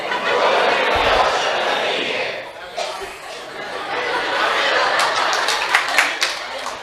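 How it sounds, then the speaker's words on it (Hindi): A church congregation claps and cheers with scattered chatter, a dense, steady crowd wash with sharper hand claps picking up toward the end. "ताली क्या बजा रहे हो?"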